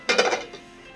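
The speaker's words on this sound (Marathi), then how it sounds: "आता आपण याच्यावर ताटली झाकून ठेवूया" A plate is set over a bowl of pakoda batter, making a brief cluster of clinks and a clatter of ceramic, close and fairly quiet, fading quickly.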